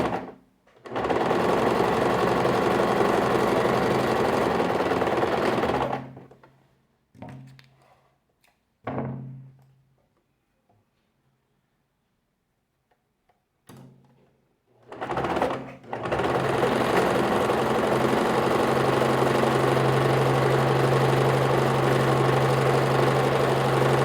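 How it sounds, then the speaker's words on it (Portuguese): A sewing machine stitches a fabric necessaire box in two long, fast runs of steady mechanical whirring. Between the runs come a few short bursts and a quiet pause. "Vou andar aqui um pouquinho mais rápido a minha costurinha"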